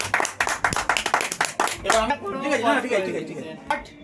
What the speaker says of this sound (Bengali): তো সৌভিকের জন্য হাততালি দিয়ে